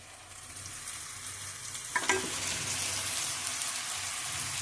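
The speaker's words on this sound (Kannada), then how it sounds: "ಅದನ್ನ ಚಂದಾಗ ಈಗ ಎಣ್ಣೆಗ ಸುಟ್ಕೋಬೇಕು ನೋಡ್ರಿ." A groundnut powder mixture is poured into hot oil: a soft sizzle suddenly swells into loud, steady frying with stirring scrapes that continue to the end, and nobody speaks.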